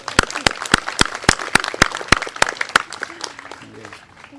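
At a physical therapy assistant pinning ceremony, a small audience claps in a clear, evenly spaced rhythm of distinct hand claps that thin and fade near the end, with a faint voice underneath.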